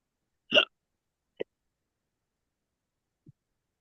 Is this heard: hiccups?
yes